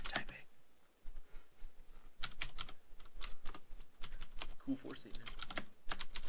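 Typing on a mechanical keyboard with blue switches, rapid clicky keystrokes in uneven bursts with brief pauses, close and crisp, while a voice speaks briefly over it.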